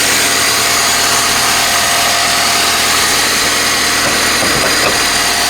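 A 1994 Saturn SL2 engine idles with the hood open, a steady loud mechanical hum with dense broadband noise and no change in pace, heard close with no speech.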